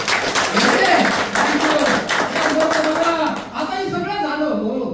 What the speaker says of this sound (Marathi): टाळ्या तुमच्यासाठी एकदा फळात वाजवा